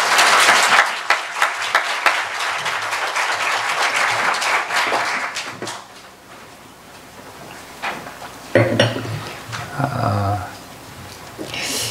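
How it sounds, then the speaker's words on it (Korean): A church congregation applauds to welcome a visiting pastor at a 25th anniversary service for a church in Halifax; dense clapping fills the first six seconds, then thins out, with scattered claps and murmuring afterward. "우리 성도님들 박수로 우리 목사님 환영하겠습니다"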